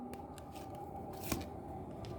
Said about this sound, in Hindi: मैं थोड़े से कार्ड निकाल लेती हूँ